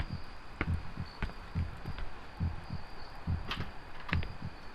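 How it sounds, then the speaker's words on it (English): A heartbeat sound effect from the horror video game Song of Horror, steady paired low thumps repeating about every second, moderately loud over a faint hiss. "Oh, I hate the heart beating thing."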